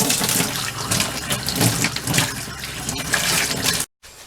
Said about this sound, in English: I'm going to go ahead and spray this shower down, give it a really good cleaning